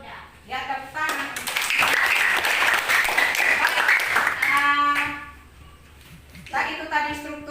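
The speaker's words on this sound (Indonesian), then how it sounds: "Ya, tepuk tangan." Classroom applause in an Indonesian lesson on short-story structure: students break into a loud, dense round of clapping lasting about three seconds, bracketed by a teacher's voice talking before and after.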